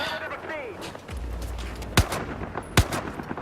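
Semi-automatic rifle fire in the Battlefield 4 Singapore mission on PS4: two sharp, loud single shots about a second apart, following a low rumble and a brief whistling sweep, with no talk.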